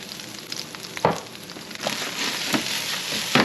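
Garlic frying in oil in a pan, a close crackling sizzle that swells and settles, punctuated by a few sharp pops or stirring scrapes.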